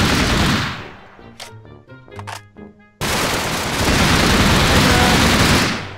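Rapid bursts of gunfire in a Minecraft game, loud dense volleys that fill the start and the second half, with a quieter stretch of sharp clicks and tones between them.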